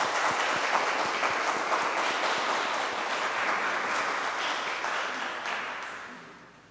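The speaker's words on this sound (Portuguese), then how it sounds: "Uma salva de palmas para a palavra de Deus." Congregation applause in a church during Mass, honoring the reading of the Gospel, a dense, even roar of many hands clapping that holds steady and then tapers away at the end.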